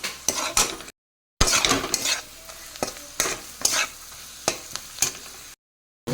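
Spices with salt, turmeric and Kashmiri chili fry in a pan for a prawn dish, with repeated spatula scrapes and knocks against the pan over a low sizzle, and brief silent gaps.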